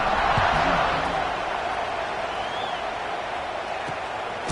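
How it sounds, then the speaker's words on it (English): Stadium crowd in the College Football 26 video game buzzing after a score, a steady loud roar of many voices filling the space throughout. "this crowd is buzzing after that last score"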